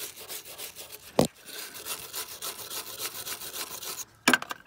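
Steady abrasive grinding as a sanding wheel scrapes undercoating off a GMT800 transfer case, a rough scraping texture running continuously at close range, broken by two sharp knocks.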